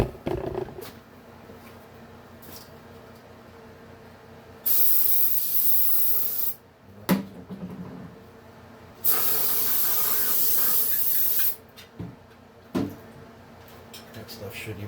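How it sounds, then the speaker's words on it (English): Two long bursts of aerosol spray hiss loudly and close while rinsing a carbon-cleaned part of an Efco 152 chainsaw engine, separated by clicks and handling knocks in a quiet workshop. "Let me rinse that off so it don't rust."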